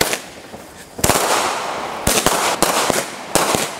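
Fireworks and firecrackers pop and crackle on New Year's Eve, a loud close series of sharp bangs and bursts spread over a few seconds with no talking.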